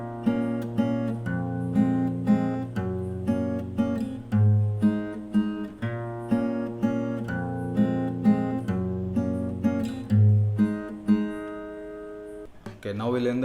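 Fingerstyle acoustic guitar picks a melody, with a steady stream of plucked notes over ringing bass strings, played close and alone at a moderate tempo.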